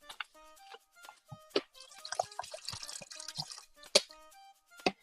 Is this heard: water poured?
yes